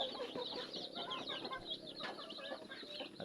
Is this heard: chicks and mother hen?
yes